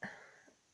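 One short, quiet sneeze, close by and on its own, a brief burst that fades quickly.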